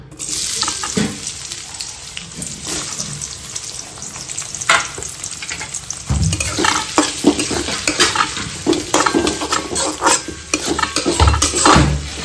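Onions fry and sizzle in a pan while something scrapes and stirs them, with clattering utensil sounds.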